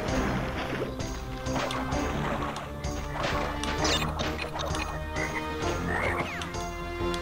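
A toad croaks in the video game Crash Bandicoot: Warped, heard amid layered game music with scattered crashes and thwacks.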